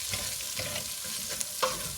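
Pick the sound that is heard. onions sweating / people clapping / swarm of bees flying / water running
onions sweating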